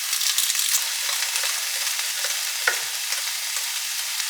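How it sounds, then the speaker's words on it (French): Sliced onions fry in hot olive oil in a sauté pan, giving a steady close sizzle with light stirring scrapes and one brief sharper knock near the end, no voices. "sauteuse un petit peu d'huile d'olive et une fois que c'est chaud, j'ajoute mes oignons émincés. Je mélange."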